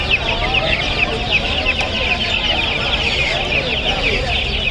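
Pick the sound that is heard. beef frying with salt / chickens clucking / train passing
chickens clucking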